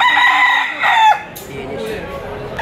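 Rooster crowing loudly and close at a poultry auction in Lipa, one long strained crow that breaks off, followed by fainter clucks and crowd noise.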